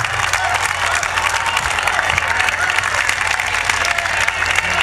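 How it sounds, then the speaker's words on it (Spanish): Loud, dense applause from a crowd at a political campaign rally in Alcorcón, steady for several seconds with some cheering mixed in. "pido un aplauso para Cristina Cifuentes también"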